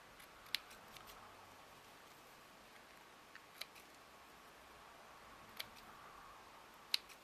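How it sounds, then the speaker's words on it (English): Scissors trimming the ends of wedding appliqué lace: a handful of faint, sharp snips spaced a second or more apart over a quiet room hiss. "These are just the ends I'm trimming off that have been attached to something else"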